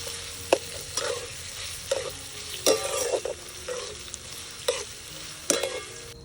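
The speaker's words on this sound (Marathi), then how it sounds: "आता आपल्याला टोमॅटो पूर्ण स्मॅश होईपर्यंत भाजून घ्यायचा आहे" Tomatoes roast and get mashed in a pan over a wood-fired stove for a Kolhapuri bhogi vegetable dish, with soft sizzling broken by several sharp clacks and scrapes of a spoon against the pan.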